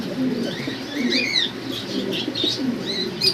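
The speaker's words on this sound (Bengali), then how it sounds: "খুব অ্যাক্টিভ দেখতে পারতেছেন কবুতরগুলো" Fancy pigeons at a breeding farm make soft cooing and chirping calls with brief bursts of wing flapping, close and steady over a low murmur, with no talk.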